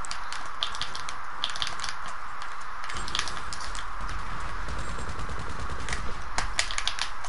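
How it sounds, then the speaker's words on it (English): Gunfire in the video game GTA as shots hit a rock, heard as loud, rapid, crackling bursts over a dense, steady background of game noise. "Shooting the rock is weird."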